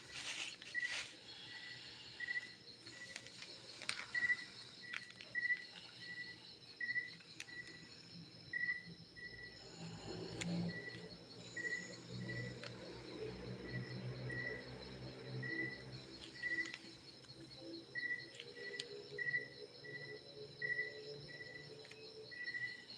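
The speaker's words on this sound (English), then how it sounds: "So you can hear some backgrounds of crickets chirping." Faint, regular high-pitched chirps repeating in a steady rhythm against a quiet night background, with soft rustling in the middle.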